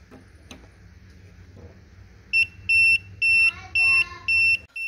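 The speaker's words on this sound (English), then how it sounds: "If you get to live current, as you can see, it'll beep." A series of five sharp electronic beeps in a steady rhythm, each lasting about a third of a second, from a Tesmen TWS-322 wire stripper's voltage detector sensing live current, following quiet handling noise.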